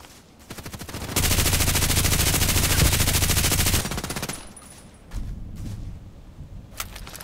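Rapid automatic gunfire from loud weapons in the shooter game Contract Wars, a dense burst of about three seconds followed by scattered single shots and clicks, loud and close with no talking.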